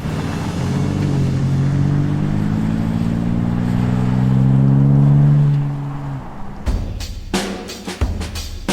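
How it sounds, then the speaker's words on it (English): A Toyota 4Runner TRD Pro's deep, throaty TRD sport exhaust revs and holds a rising drone, then drops off into a series of sharp pops and knocks. "This TRD Pro has a nice beefy exhaust note because of the special TRD exhaust system."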